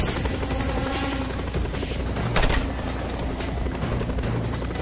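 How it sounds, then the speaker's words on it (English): Helicopter in the video game Just Cause 2 gives off a loud, constant rotor thrum and mechanical whine, steady with a brief swell midway, and no voices over it. "Deal with that chopper, Rico, quickly!"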